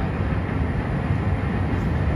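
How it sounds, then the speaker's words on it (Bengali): A train rumbles steadily across a railway bridge near the Kansai river in Purulia, a continuous loud low roar with broadband clatter that holds at the same level throughout, with no voices. "দুটো ট্রেন, এধার থেকে ওটা ট্রেন আসছে"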